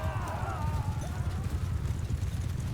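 Horses gallop into battle in Mount & Blade II Bannerlord, a dense rumble of hooves beneath a faint, high, wavering cry early on, steady and moderately loud with no one speaking.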